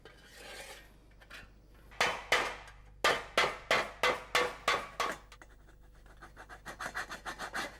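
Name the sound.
shaping a tinplate lid with a bending hammer on lead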